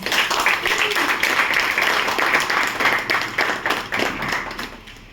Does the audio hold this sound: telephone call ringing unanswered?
no